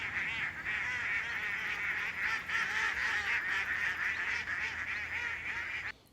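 A dense flock of geese honks and cackles continuously in a TV drama scene, loud and overlapping throughout before cutting off abruptly.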